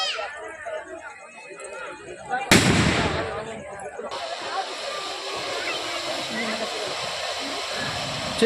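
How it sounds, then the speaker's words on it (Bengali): Firecrackers and a large fountain firework set off by a devotee at a Bengali village festival crowd, a sudden loud burst followed by sustained crackling and hissing amid a noisy gathering with people talking. "এখানে বাজি ফাটানো হচ্ছে"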